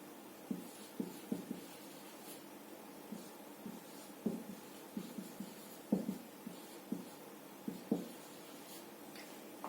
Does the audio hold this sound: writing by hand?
yes